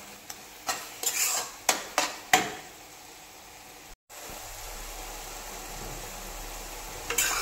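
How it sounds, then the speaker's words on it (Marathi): Tomato puree fries in oil for pav bhaji, a soft steady sizzle beneath several sharp ladle clinks against the pan early on, then a brief dropout before the quiet frying continues. "प्युरी ही इथे जोवर तेल सोडत नाही तोवर आपल्याला फ्राय करायचं आहे"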